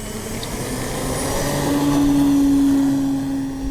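An E-flite CZ T-28 RC plane takes off, its electric motor whine rising to a steady loud tone as it powers up and climbs away, with outdoor wind noise throughout.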